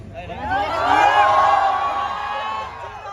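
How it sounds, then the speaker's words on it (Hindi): Wedding audience at the back of a Jamnagar pre-wedding celebration shouting and cheering together, a dense crowd roar that swells and then holds steady, no single voice standing out. "एक बार पीछे से चिल्ला दो प्लीज।"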